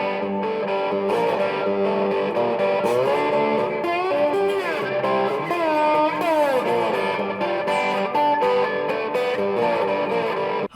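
Electric guitar played through a Donner Echo Square delay pedal, sustained chords and melodic lines with audible repeating echoes, loud and continuous with no talking.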